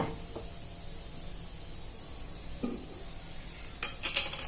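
Fish pieces for pickle fry in a pan with turmeric and ginger-garlic paste, sizzling quietly with a continuous soft hiss, punctuated by a few sharper crackles and clinks.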